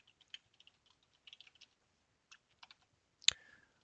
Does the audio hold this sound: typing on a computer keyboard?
yes